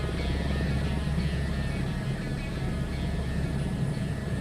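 Heavy helicopter in Microsoft Flight Simulator 2024, a continuous loud rotor and engine drone with a low throbbing rumble and steady whine, unbroken throughout.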